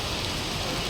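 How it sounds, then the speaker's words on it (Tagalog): Steady rain hissing down without a break, a dense even wash of noise, fairly close and moderately loud, with no voices. "umulan na naman"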